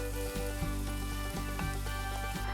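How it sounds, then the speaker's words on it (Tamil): Onions sizzle steadily in hot oil and butter, a constant crackling hiss with a few soft knocks now and then. No voices. "இப்போ இதில் நம்ம பொடியாக நறுக்கி வச்ச வெங்காயத்தை சேர்த்துக்கலாம்"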